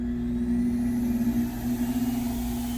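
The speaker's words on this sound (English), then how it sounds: "I am going to turn on this air blower." An electric air blower powering a laboratory air track hums steadily at full setting, a loud continuous motor drone with a strong tonal whine that holds level throughout, no voices.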